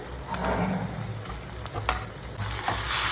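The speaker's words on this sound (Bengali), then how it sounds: "এরপর এটাকে একটু হালকা করে পাঁচ দশ মিনিটের মতো কষিয়ে নিচ্ছি" Mutton with spices is sautéed in hot oil, sizzling steadily at close range while a spatula stirs and scrapes the pan in a few distinct strokes.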